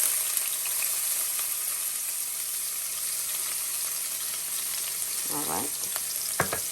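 Peppers and onions sizzle in a hot pot with a steady, bright hiss of frying that fills the background. A short spoken remark and a couple of soft utensil knocks come near the end.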